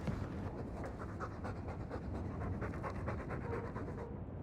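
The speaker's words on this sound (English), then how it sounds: "All that noisy dog breath," Loud, rapid rhythmic dog panting in the Dragon Age II video game, a steady close breathy huffing that continues for several seconds with no speech.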